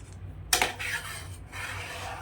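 A spoon scrapes and stirs through a pot of milk, folding the thick cream skin back in while making kulfi; a sharp metallic clink stands out, then soft scraping continues quietly with no voices.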